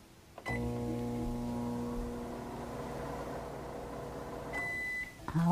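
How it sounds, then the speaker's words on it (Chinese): A microwave oven heats a stirred mixture for one minute, giving a steady close electric hum with a tonal whine, then a few short beeps near the end. "我们现在先用微波炉"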